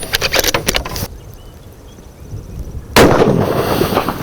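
A Ruger Precision Rifle firing at long range outdoors, with two loud, close shot blasts about two seconds apart, each followed by a broad rumble of wind and echo.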